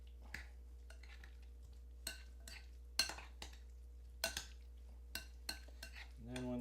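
Potato salad being mixed in a bowl, a series of sharp scattered clinks and scrapes of a utensil against the bowl, fairly close and quiet, with gaps between them.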